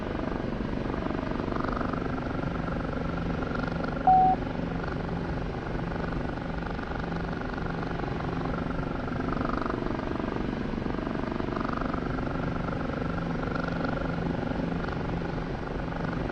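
Kiowa helicopter in DCS, its turbine whine and rotor thrum droning steadily and close throughout with no talking.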